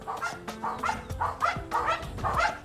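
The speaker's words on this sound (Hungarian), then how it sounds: "fehér kutya, kuvasz, ő pedig egy őrzővédő." A large white kuvasz guard dog barks in a rapid, steady series of deep, close barks, about six in under three seconds.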